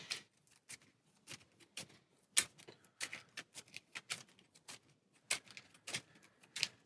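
A deck of cards shuffled during a Warhammer Quest: Cursed City board game session, a quick series of sharp, irregular paper riffles and taps, close by and fairly quiet, with no talking.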